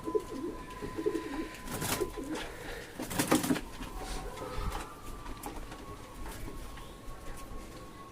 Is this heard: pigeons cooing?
yes